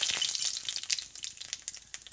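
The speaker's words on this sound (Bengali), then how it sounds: "লঙ্কাটা একটু ভাজা ভাজা হলে এর মধ্যে ছোট চামচের 1 চামচ গোটা জিরে দিয়ে দিচ্ছি।" Dried chillies and whole cumin seeds fry in hot oil in a village-style kitchen, giving a steady bright sizzle broken by quick crackles and pops, heard close with no talk.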